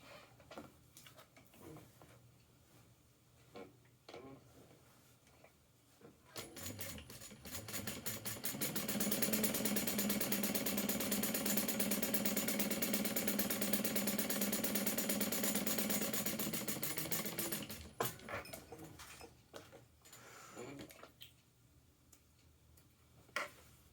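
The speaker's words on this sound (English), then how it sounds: "Now I'm going to top stitch across the top." A home sewing machine top stitching across the top edge of a fabric piece, running steadily for about ten seconds between quieter handling noises.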